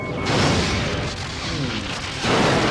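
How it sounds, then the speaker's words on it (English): A Borg cube's weapons firing in a Star Trek video game, heavy booming blasts with a sustained roar that swells, dips in the middle, then surges loud again, without speech. "The Borg cube is firing."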